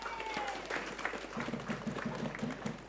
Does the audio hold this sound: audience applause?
yes